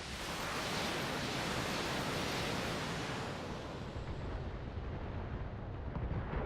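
Missile volley from LRM-15 launchers in the BattleTech video game, a dense continuous roar of rockets and blasts filling the whole stretch, loud and steady with a slight easing toward the end.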